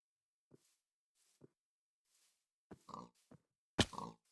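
A handful of short pig grunts from the video game Minecraft, spaced apart and fairly quiet at first, then closer and louder in a brief cluster near the end.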